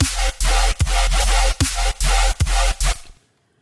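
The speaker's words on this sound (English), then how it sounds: "You hear that little metallic sounding ping pong action going on?" Metallic dubstep riddim bass from the Serum synth with ping-pong delay, processed wet, firing in loud rhythmic bursts separated by short gaps, then cutting off and fading into silence at the end.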